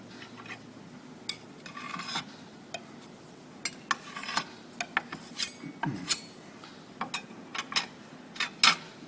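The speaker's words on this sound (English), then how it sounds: "I want to spread it out here on the mixing slab" Dense artist paint paste being spread on a mixing slab with a metal tool at a paint factory in Portland, Oregon, giving irregular scraping, clinking and tapping strokes over a low background hum.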